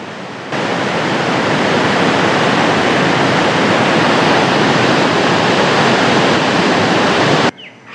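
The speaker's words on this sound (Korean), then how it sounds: "그 중에서도 악마의 목구멍이라 불리는 폭포는 낙차가 1km에 달해 보는 이들을 전율케 합니다." The Devil's Throat at Iguazu Falls in Brazil, a huge waterfall with a drop of great height, gives a loud, constant roar of falling water that begins abruptly and cuts off near the end.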